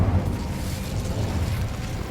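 A fiery Incendio spell blast in Hogwarts Legacy, a dense low rumbling roar with a crackling burst that holds steady and loud for about two seconds, with no voices.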